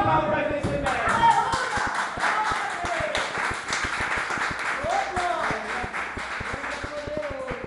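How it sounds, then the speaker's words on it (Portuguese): A church congregation claps hands for Jesus during a Portuguese-language service, a steady run of sharp hand claps mixed with voices talking or singing throughout. "Salve palmas para Jesus."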